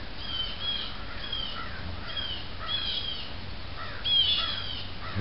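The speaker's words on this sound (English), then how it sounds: "Bunch of crows mad at something, it sounds like." Several crows call in scattered, harsh bursts at a moderate distance over a steady outdoor background, with one louder cluster of calls near the end.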